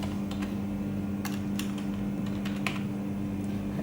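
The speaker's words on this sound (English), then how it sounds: "type in the crimp asymmetry" Light keystrokes tap on a computer keyboard in uneven bursts during crimp cross-section measurement software work, set over a steady low electrical hum from nearby lab equipment; no one talks.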